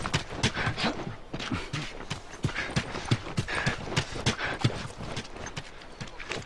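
Horse hooves clip-clop steadily in The Last of Us, a brisk, even rhythm of sharp hoofbeats close by, sustained without any speech.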